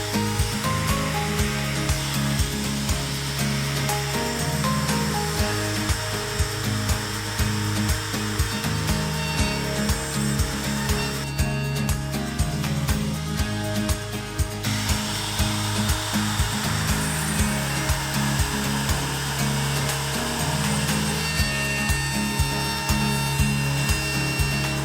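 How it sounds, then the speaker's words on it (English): A handheld router cuts into XPS foam on a homemade surfboard to recess a leash plug, a loud continuous whining motor with a steady hum and grinding pitch shifts as the bit moves through the foam, briefly easing midway. "Now I'm going to take my router and router out this inside part."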